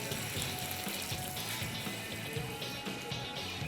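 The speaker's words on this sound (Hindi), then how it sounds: "थोड़ा सा इसमें मैं पानी डालूँगा" Water running steadily from a tap or being poured while quesadilla filling is prepared in a kitchen, a continuous close splashing wash with no talk.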